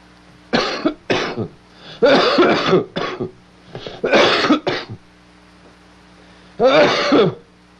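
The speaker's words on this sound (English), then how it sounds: "eventually breaks down in a coughing fit" A close series of harsh, throaty coughs in several bursts, some in quick doubles, with brief pauses between, and a final longer hack after a gap.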